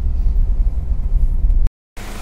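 Toyota Fortuner SUV on a longer road test drive, a steady low engine and road rumble from inside the cabin, fairly loud and continuous, cutting out briefly near the end before resuming.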